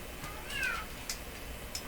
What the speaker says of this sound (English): There's a cat calling me.